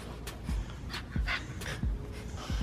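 A dog pants in quick, close breaths, with soft whimpery snuffles recurring every half second or so.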